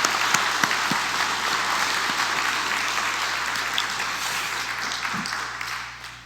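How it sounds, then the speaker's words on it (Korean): A church congregation applauds in encouragement during a Sunday service, dense sustained clapping with a few sharper individual claps, slowly fading toward the end over a low steady hum. "격려의 박수 드리겠습니다."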